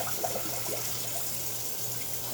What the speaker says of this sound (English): Now I'm going to pour this water where I just rinsed it off again